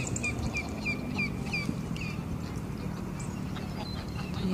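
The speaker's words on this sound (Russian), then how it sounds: "Жизнь водоплавающих птиц." Ducks, gulls and geese quack and call in short, repeated bursts on a lake beside a stone bench. The calls carry over low outdoor ambience and sound moderately near.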